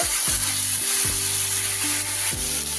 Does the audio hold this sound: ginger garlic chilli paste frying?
yes